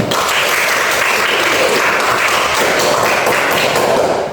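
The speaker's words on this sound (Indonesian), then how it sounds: "Sebenarnya tepuk tangan dulu" A classroom of students claps together in steady, dense applause that stays loud and even from start to finish, with no talking over it.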